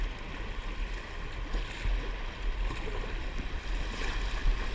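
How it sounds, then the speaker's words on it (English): Rushing river rapids on the Colorado River near Moab, heard from a boat in March: a steady broadband wash of churning water with low rumble, continuous and fairly close, no talking. "section of noisy water here"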